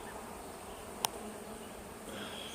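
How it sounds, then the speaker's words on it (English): Honey bees hum around a large open hive during an outdoor inspection, a steady, fairly faint buzzing drone that continues throughout with one brief click partway through. "A wave of bees coming off the side here."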